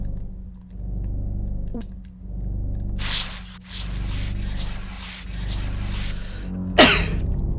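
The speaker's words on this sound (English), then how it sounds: "That sneeze was coming on" A single sharp sneeze bursts out near the end, loud and close, over a steady low electronic hum and some rustling noise.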